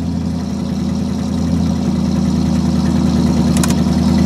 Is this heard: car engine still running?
yes